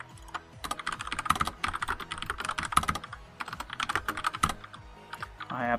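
Fast bursts of clattering computer-keyboard keystrokes come from someone typing short game-chat messages, with rapid irregular clicks in quick runs separated by brief pauses, close and crisp.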